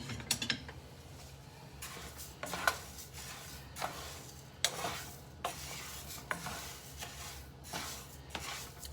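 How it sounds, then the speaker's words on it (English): Two cups of rice are stirred in about four or five tablespoons of olive oil to brown for Mexican rice, making a soft steady sizzle with repeated scraping and clattering strokes at a close, moderate level, no voice. "we're just going to give that a stir until it's brown."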